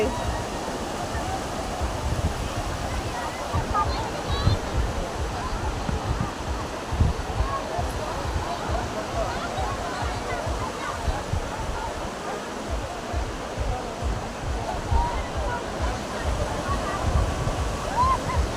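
Sea water rises at a beach shore, a continuous broad rush of surf and wind-blown spray rolling steadily for the whole stretch, fairly loud and close, with no voice on top.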